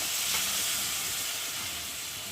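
Gourd greens curry frying in a pan as a little water is poured in, giving a loud, steady hissing sizzle that eases slightly over a couple of seconds, with no voices.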